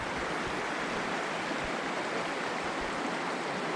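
Two forks of a mountain river, the Middle and West Fork, flowing together on the Uinta Highline Trail, a steady, close, broadband rush of running water that holds constant throughout.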